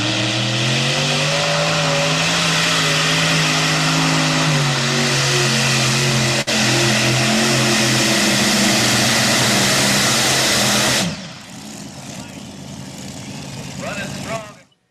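A tractor-type engine runs loud and close, holding steady and then revving higher before dropping off sharply near the end, leaving a quieter rumble that swells again at the finish.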